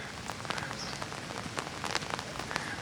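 Steady rain falls and patters close by on a surface in Ljubljana, with scattered sharper drops over a constant hiss and no voices.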